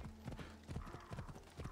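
Horse hooves clip-clopping in a quick rhythmic gallop in the video game Assassin's Creed Odyssey, a run of close, evenly spaced thuds, fairly quiet with a faint whinny-like tone.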